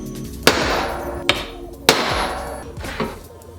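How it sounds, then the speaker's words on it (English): A hammer strikes a center punch to mark holes for drilling in metal, giving four sharp, ringing metallic taps at irregular intervals with no talking. "Now I'm going to take my center punch and mark these holes out."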